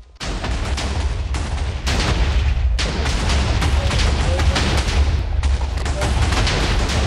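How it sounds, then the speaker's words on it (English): Continuous barrage of game explosions and gunfire-like booms in a video game adventure map, loud and dense with rumbling low end, pausing briefly a few times before resuming. "All the explosions."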